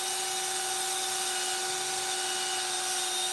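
A wooden bowl being sanded on a lathe gives a steady, continuous whirring hiss with a high, even tone, close and unbroken throughout with no talk over it.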